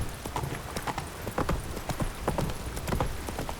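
Hooves clip-clop steadily on the ground as a horse is ridden in The Witcher 3, a close, regular trotting rhythm with faint sound of the mount throughout.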